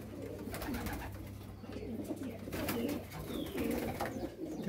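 Pigeons coo steadily in a small pigeon loft holding young males, chicks and adult birds, with layered, overlapping low cooing throughout and a few brief chirps on top.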